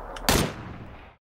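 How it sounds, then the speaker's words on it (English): A single sharp gunshot in PlayerUnknown's Battlegrounds cracks out, with a faint earlier pop, then a short echoing tail that fades within about a second. "I think Valor's shooting at somebody."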